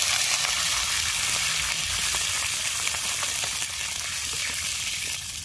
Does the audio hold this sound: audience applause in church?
no